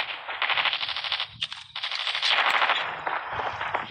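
Rapid automatic gunfire from a Call of Duty video game rattles in dense bursts with a brief pause between volleys, loud and close, with no speech over it.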